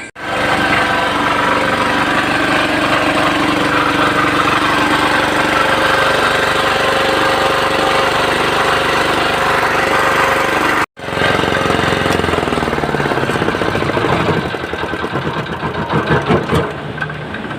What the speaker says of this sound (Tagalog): double check pa natin yung generator kung okay pa